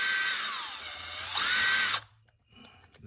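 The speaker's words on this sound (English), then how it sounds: "we're trying to drill out the piece that fell in there," A power drill whines loudly and steadily, its pitch sagging and rising under load, as it bores out a stuck broken piece inside an Infiniti engine, then cuts off abruptly, leaving faint clatter.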